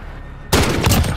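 Sniper rifle fire in a first-person shooter game, a single loud, sharp blast that cuts in abruptly after a quiet lull and rings out briefly, with no talking.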